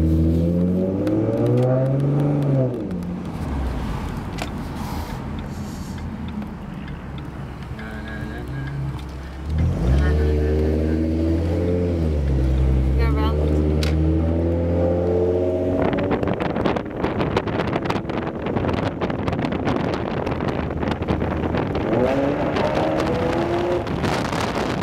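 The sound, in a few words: 2011 Ford Mustang V6 with Roush axle-back exhaust revving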